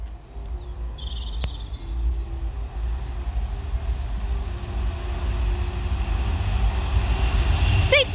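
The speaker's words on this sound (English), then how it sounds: "Passing through is going to be a freight class" A Class 66 freight train passes through Kearsley on the North Transpennine route, a steady loud low rumble of wagons building toward the end with brief higher squeals and no talk.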